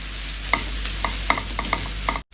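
Egg fried rice stir-fried in a pan over a high flame: a spatula scrapes and taps the pan in an uneven rhythm of sharp clicks over a steady, close sizzle, with no voices.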